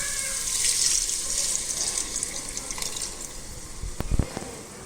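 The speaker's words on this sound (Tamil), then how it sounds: "தேங்காய் பால் வந்து நான் ஃபுல்லாக ஊற்றிடுறேன்" Coconut milk is poured into a pot for egg biryani, giving a continuous close splashing, trickling pour with a few louder splashes near the end.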